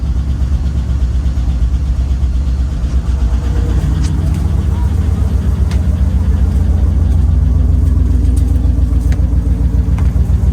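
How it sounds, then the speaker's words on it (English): The rebuilt engine of a GMC Yukon Hybrid idles loud and close, a steady low rumbling drone with a faint rise in intensity partway through, with no talk over it. "Let's let her idle here for a little bit."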